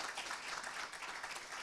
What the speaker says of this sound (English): give him a round of applause that he's still here doing the work